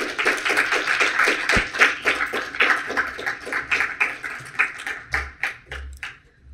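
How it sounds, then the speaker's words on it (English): Audience at a game developers' meeting applauds to welcome a speaker, a fairly close, rhythmic patter of many hands that tapers to scattered final claps. "a round of applause, please?"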